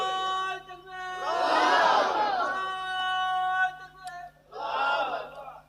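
A sermon congregation shouts the takbir louder in two powerful massed bursts with a brief lull between. A sustained voice carries through underneath.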